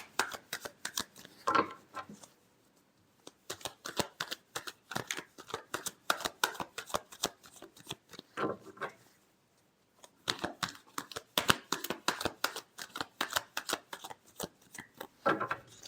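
Tarot cards are shuffled by hand in quick, crisp riffling bursts, close and fairly loud, broken by two short pauses before the rapid flicking resumes.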